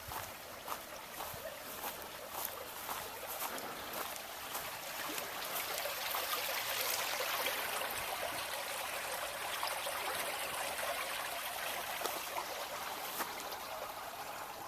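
A woodland stream runs steadily close by, a soft, continuous wash of trickling water with faint ripples and splashes, heard alone without talk.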